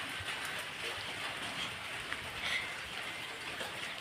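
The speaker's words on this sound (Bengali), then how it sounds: "বৃষ্টি হচ্ছে দেখো" Heavy rain pours steadily at home during a long downpour, a dense continuous hiss of falling water that stays even and moderately loud throughout, with no voices.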